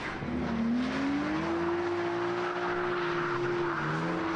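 A car drifting sideways holds its engine at a high, steadily rising rev, with harsh, continuous tyre squeal and roar filling the whole stretch, loud and close.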